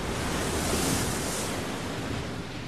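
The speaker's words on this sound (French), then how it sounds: "comme vous le voyez, les vagues sont toujours aussi violentes" Violent storm waves and gale-force wind at sea around an offshore oil platform, a dense, unbroken roar of surf and gusting wind that stays loud and constant throughout.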